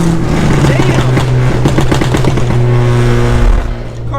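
A big-turbo Ford Focus ST pulls hard in second gear, heard from inside the car as a loud, droning engine note that climbs and then drops away near the end.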